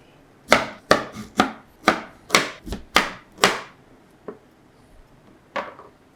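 Large lemons are cut with a knife on a board, giving a run of sharp, close chopping knocks in quick succession, then a few sparser cuts.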